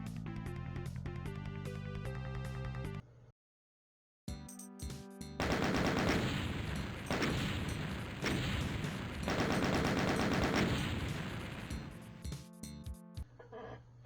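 Super shotgun blasts and rapid gunfire in the video game Doom II, with dense bursts of loud shots and a brief silent gap, then sustained heavy firing mixed with game music and effects.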